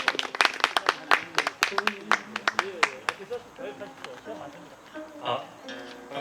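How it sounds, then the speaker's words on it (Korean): Audience clapping to welcome a lecturer at a Donghak anniversary lecture event: scattered, uneven claps from a small indoor crowd, loud at first and thinning out, with faint voices underneath. "뜨거운 박수 부탁드립니다."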